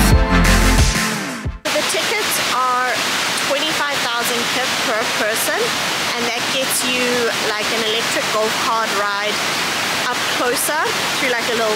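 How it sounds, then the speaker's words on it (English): The 60-meter main cascade of Kuang Si Falls in Luang Prabang, Laos, roars as a loud, constant wash of water noise, with a voice running over it for most of the stretch. "At the end of the trail is the main 60-meter waterfall."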